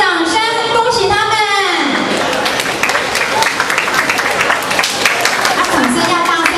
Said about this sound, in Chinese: 来，掌声恭喜他们！